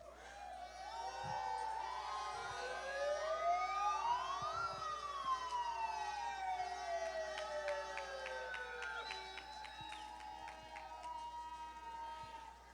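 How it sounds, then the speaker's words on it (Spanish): Emergency vehicle siren swelling up and down in long wailing sweeps, moderately loud over a noisy street crowd, with a faint rhythmic tapping and murmur of people beneath. "¿Dónde está la sirena?"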